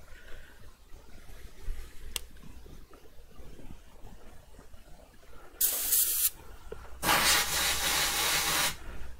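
Paint spray gun set around 40–45 PSI, used on a painted piece in colors including purple, firing two loud bursts of hissing spray, a shorter one then a longer one, over quiet room noise.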